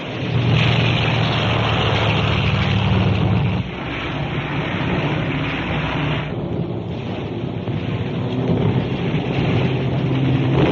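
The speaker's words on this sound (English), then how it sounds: "Catapult plane being launched." Engine roar of a catapult-launched bomber plane from a war film, a loud, continuous propeller drone with a brief dip partway, no talk.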